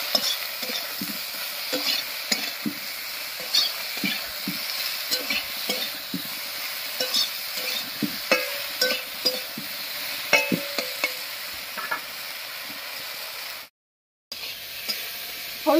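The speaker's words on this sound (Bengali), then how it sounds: "হলুদ লবণ দিয়ে ঝিঙেটা একটু ভাজা ভাজা মতো করে নিয়েছি।" Ridge gourd frying in a pan with turmeric and salt, stirred steadily: a continuous soft sizzle with repeated scraping taps of the spatula, close and fairly quiet, with a brief dropout near the end and no talking.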